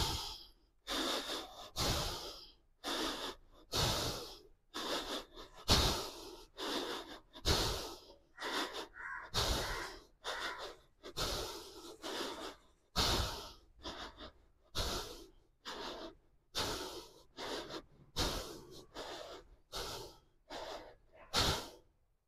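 Deep yoga breathing while standing in a full-body upward stretch: slow, rhythmic inhales and exhales through the nose, close and quiet, repeating steadily with no talk.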